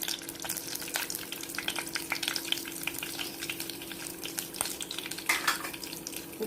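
Mustard seeds sizzling in hot sesame oil in a kadai, a continuous frying hiss with scattered sharp crackles and pops, fairly quiet and close.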